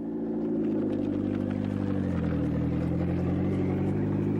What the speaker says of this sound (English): Delacour limps into service on 3 wheels.